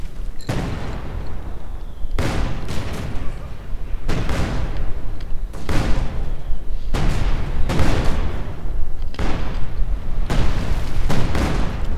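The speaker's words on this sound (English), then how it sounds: "And once more the field assault gun just blasts away." Field assault gun in Company of Heroes 2 fires repeatedly in a 2v2 match, about seven heavy booming blasts at roughly two-second intervals, each loud with a ringing tail over a constant battle din.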